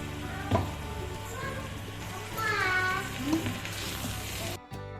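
Chicken frying in hot oil for chilli chicken, with tomato and chilli paste just added over a medium flame; a steady close sizzle runs throughout, with faint voices in the background, then it cuts off abruptly near the end.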